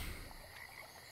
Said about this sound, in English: Let's check those frogs.